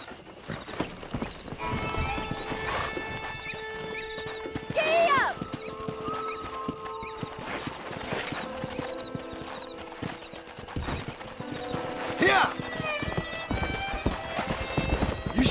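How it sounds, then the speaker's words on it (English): Horses run in the game Red Dead Redemption, hooves clattering in quick rhythmic clip-clops, with a sharp whinny breaking through, music playing and a voice talking now and then. "let's see if we can't wrangle some horses"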